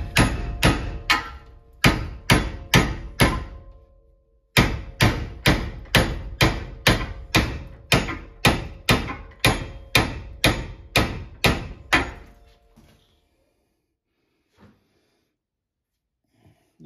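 A hammer pounds a wooden handle out of a tool head in a long series of sharp, evenly spaced metallic strikes, close and loud, with one short pause, then near silence at the end.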